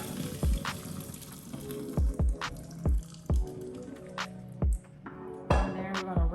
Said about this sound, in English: Noodles are done. We're gonna go ahead and drain them.